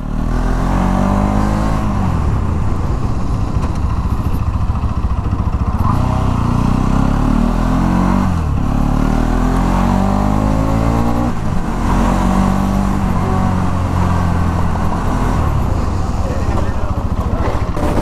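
A 2017 Bajaj Pulsar 200NS ABS motorcycle is ridden at a steady pace, its engine droning loudly and continuously up close over rushing wind, with slight shifts in pitch as the rider varies the throttle.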